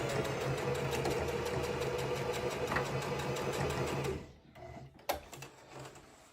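A sewing machine stitching a ribbon skirt runs in a steady, rapid mechanical rhythm for about four seconds, then stops, followed by a few faint handling clicks and one sharp tap.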